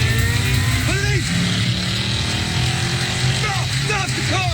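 Car engines roaring during a shootout and car chase through Miami, a loud continuous motor drone with revving surges and tire-like squeals, voices shouting over it.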